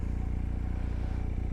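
A BMW motorcycle engine idles at around 2000 RPM after a restart, a steady close rumble with an even, rapid pulsing beat and no talk over it.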